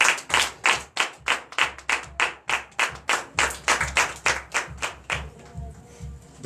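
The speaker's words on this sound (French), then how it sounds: "Donnez l'acclamation à notre Seigneur Jésus." Church congregation at a Sunday worship service in Comè, Benin, clapping in unison: a steady, loud rhythmic beat of about two claps per second that thins and fades near the end, with no talking over it.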